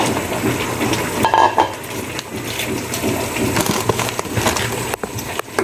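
Ingredients pour and sizzle into a pan while pancit cooks, a continuous wet rush with metallic clinks and scrapes from the utensils, close and fairly loud throughout.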